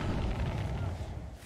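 A generator explodes with a loud, deep bang in the Dead by Daylight video game, a heavy rumbling boom that fills the whole moment.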